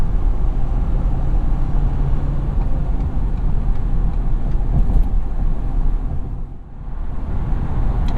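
A 2017 Ford F-250 Super Duty 4x4 truck accelerating on a highway, heard from inside the cab as a loud, continuous broadband roar of engine and road noise that briefly dips before resuming.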